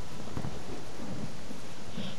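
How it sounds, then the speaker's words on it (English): Fierce thunderstorm sound effect: a continuous low rumbling roll of thunder blended with heavy hissing rain, loud and steady throughout. "The storm was becoming more and more fierce."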